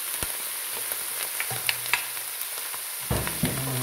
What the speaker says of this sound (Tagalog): gigisa muna natin